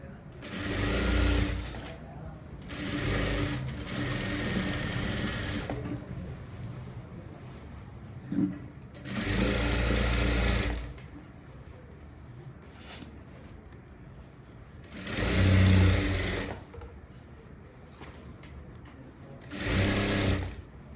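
Sewing machine stitching a nighty seam in a tailoring job, running in several bursts of steady rapid whirring a few seconds long, separated by quieter gaps where a person speaks.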